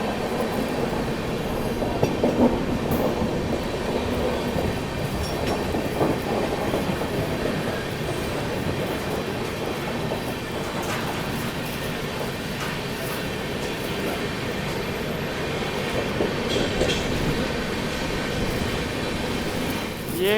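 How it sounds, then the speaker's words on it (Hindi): The Sampoorna Kranti Express rolls past on an Indian railway line, a loud, steady roar of wheels and clattering carriages that lasts the whole stretch without a break. "ये निकल गई भाई संपूर्ण क्रांति एक्सप्रेस"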